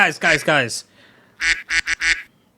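A duck quack sound effect, with a short series of sharp, clipped quacks in quick succession following a brief burst of speech.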